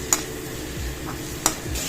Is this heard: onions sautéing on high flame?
yes